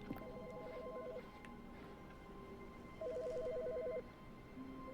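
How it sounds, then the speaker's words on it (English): A telephone rings in Stanley Parable: Ultra Deluxe, two electronic trilling bursts about a second each separated by a pause, clear over quiet room ambience. "Yo, phone ringing."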